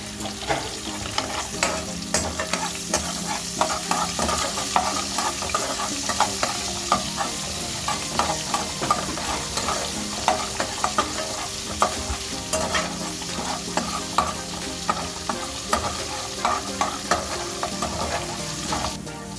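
Green chilli sizzling and frying in hot oil in a pan with stirring, a steady crackle broken by frequent scraping clicks, close and moderately loud.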